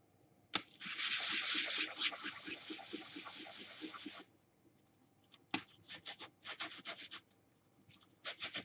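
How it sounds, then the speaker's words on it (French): Close hand sanding of glued-together parts of a 1/48 Star Wars desert skiff model: a sustained rhythmic rasping stretch of about four seconds, then a pause and several short quick scrubbing bursts. "on va les poncer"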